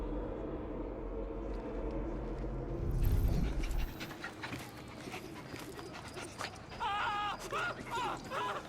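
A dog in the Victorian London setting of Assassin's Creed Syndicate pants and whimpers close up, while game speech and background ambience run underneath.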